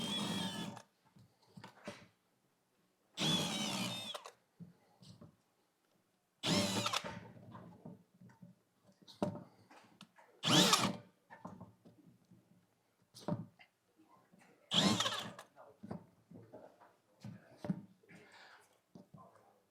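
Motor-driven compliance star wheels spinning on a robot intake handling algae: several short bursts of whirring motor and rattling, spaced apart, close and moderately loud, with quiet gaps and faint low voices between them.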